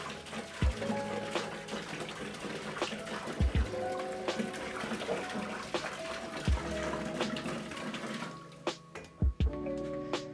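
Water runs and splashes steadily while rinsing wine filtering equipment with about 20 to 22 liters of water, broken by several sharp knocks and clunks and ending in a brief tapping burst.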